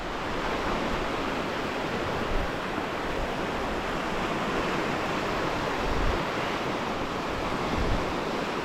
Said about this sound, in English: Now it should get easy because the waves right here will help push them.